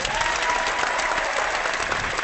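Brief, loud burst of crowd applause during an online devotee hangout, dense continuous clapping filling the short moment.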